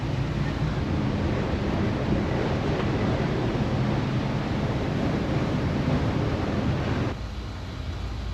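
Storm wind and heavy seas batter a freight ship at night, a loud, steady roaring rush of wind and waves that drops slightly in level near the end, with no talking.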